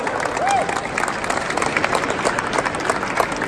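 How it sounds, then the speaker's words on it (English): Short burst of crowd applause and scattered cheering at a car show, greeting the reveal of a home-built Mini, with a voice talking over it. "Big round of applause."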